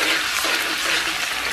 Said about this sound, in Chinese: 给锅里边稍微来点葱花姜末， 放到锅里边爆香